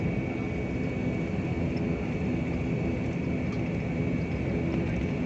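A steady, loud jet roar fills an airport in Chennai as a plane sits on the ground after landing, a continuous broadband rumble with no talk.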